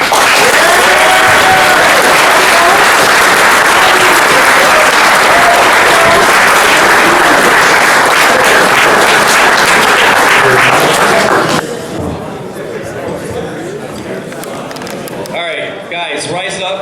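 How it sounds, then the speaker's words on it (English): Loud, sustained audience applause with cheering fills a hall after a speech at an event, dense and continuous for about eleven seconds before dropping away abruptly into quieter room noise. "Big round of applause."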